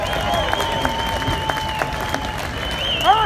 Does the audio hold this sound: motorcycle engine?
no